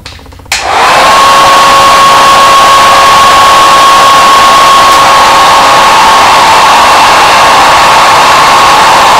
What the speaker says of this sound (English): Then I go over the entire area with my blow dryer on cool air.